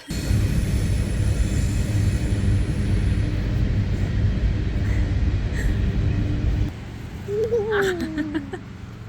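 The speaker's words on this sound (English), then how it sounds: "We found a train." A loud, steady low rumble of a passing train between Merritt and Banff, Canada, fills most of the clip, then cuts off and gives way to quieter ambience with a brief high squeal.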